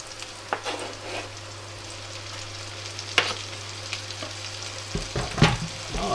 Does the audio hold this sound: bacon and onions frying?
yes